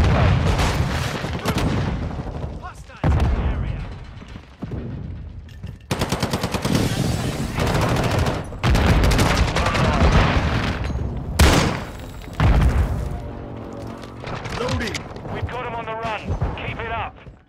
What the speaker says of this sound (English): Friendly airstrike on the way.